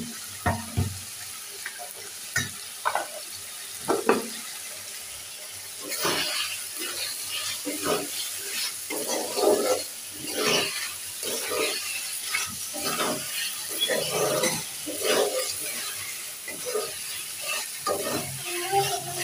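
Meat in a pan being stir-fried down in a thick braise, with repeated scraping and stirring strokes over a soft sizzle, close and fairly busy, with a faint steady hiss in the background.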